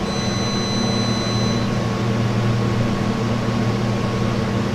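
A freezer compressor runs in a steady, continuous hum with a low drone and faint high whine, close by and unbroken, with no talking over it.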